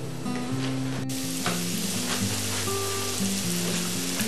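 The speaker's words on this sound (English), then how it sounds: "Get those onions cooking." Onions frying in a pan give off a steady, dense sizzle that runs continuously throughout, with occasional soft stirring scrapes and no voices.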